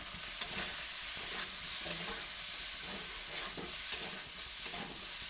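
Partly boiled potatoes fry in a pan with a constant hissing sizzle, while a utensil stirs and scrapes them in light, regular strokes throughout.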